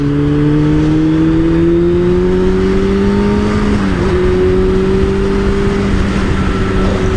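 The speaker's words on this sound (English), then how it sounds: "Just hear that 4-cylinder engine." Loud, steady engine drone with a smooth rising pitch as a 1998 Bandit 600N four-cylinder motorcycle revs, continuous and close for several seconds.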